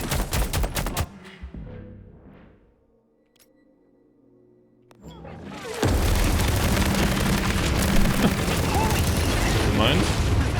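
In The Expanse: Osiris Reborn, heavy gunfire from a slower-firing weapon erupts after a brief quiet stretch into a sustained, loud, dense barrage of shots and booms.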